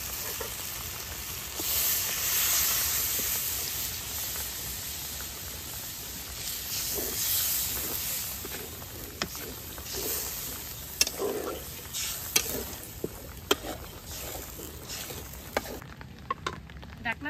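Browned meat sizzles and hisses in a pan as broth is poured in, a continuous frying crackle with occasional sharp clinks of a utensil toward the end, close and moderately loud, with no speech.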